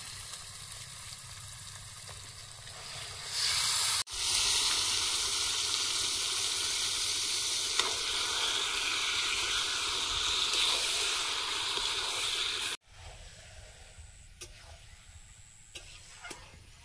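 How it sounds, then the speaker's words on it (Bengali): Chicken pieces hit hot spiced oil with cumin and masala, giving a loud sustained sizzle and hiss that then drops back to a quieter frying crackle. "এবার চিকেনটা দিয়ে দেবো।"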